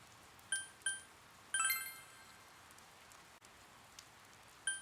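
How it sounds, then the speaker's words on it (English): Soft steady rain in the video game Persona 4, a faint hiss scattered with small bright chiming drips and tinkles that ring out now and then. "Oh, right, it's raining."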